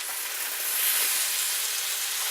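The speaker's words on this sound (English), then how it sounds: "keep an ear on your pan, because once the sizzle starts getting real strong, you know that something is sticking" Spiced Indian potatoes and peas frying in a non-stick pan, a steady bright hiss and sizzle holding evenly throughout, close up with no voices.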